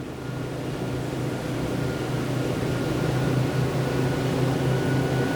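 Greenline 40 Hybrid boat engine running underway and climbing toward 4,000 revs, a continuous loud low drone with steady hull and water rush, no speech.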